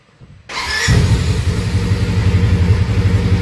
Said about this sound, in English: Engine running, it's working fine.